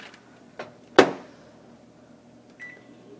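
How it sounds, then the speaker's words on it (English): Microwave oven heating a steam bag of Klondike Goldust baby potatoes, with a few sharp pops and clicks from the inflating bag, one louder crack near the start, over a low steady hum. "the bag will inflate and may make noises while cooking"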